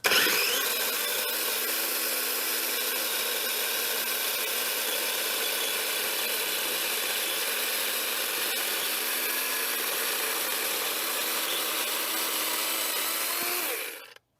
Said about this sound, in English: if you want to hear what the chainsaw sounds like, cuts really well.